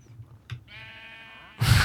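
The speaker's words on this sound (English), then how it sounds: "And now the sheep. Let's breed these sheep." A single wavering Minecraft sheep bleat, clear and close, with soft synthetic game-like tones, followed by a burst of noise at the end.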